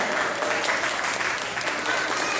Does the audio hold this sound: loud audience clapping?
yes